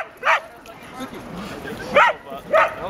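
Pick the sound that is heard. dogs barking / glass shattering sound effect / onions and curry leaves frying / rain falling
dogs barking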